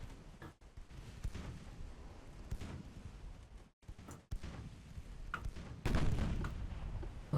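Naval guns fire in Ultimate Admiral: Dreadnoughts during an 1890s Italian battleship engagement, giving repeated heavy booms with rumbling tails, a few sharp gaps between volleys and a louder blast near the end.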